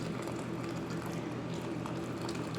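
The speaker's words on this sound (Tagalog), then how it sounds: "kulong-kulo na yung ating sabaw para sa ating sopas" Broth for Filipino sopas boils steadily in a pot, a continuous dense bubbling hiss and churn that holds even and close throughout, with no talking.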